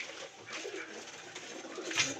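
Pigeons in a pigeon loft give soft, repeated coos close by against a faint background hum.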